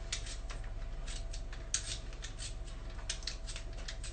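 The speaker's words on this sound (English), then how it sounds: "So I just peel the potato." A pink potato peeler scraping along a potato in quick, repeated strokes, each a short crisp rasp, close up and fairly quiet against a low hum.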